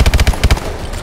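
Submachine gun fire in Call of Duty Advanced Warfare on PC: a loud, close, rapid burst of about eight shots in quick rhythm, then a short ringing tail.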